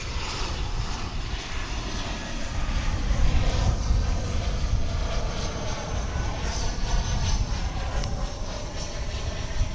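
An American Airlines Airbus A319 lands at DFW International Airport with a loud, sustained roar of engines and rushing air that swells slightly midway and stays steady, without speech.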